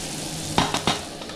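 Onion, tomato and green chili sizzle steadily in a pan for egg burji, with three sharp utensil scrapes or clinks cutting through the frying hiss.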